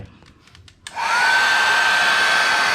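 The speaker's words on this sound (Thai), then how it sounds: "ใช้ ไดเป่าผมนะ เป่าไล่พวกน้ำออกไปนะฮะ" A hair dryer switches on after a few faint clicks and blows steadily and loudly with a constant whine, drying water off a sticker on a Honda CBR650F motorcycle, close by and with no talk.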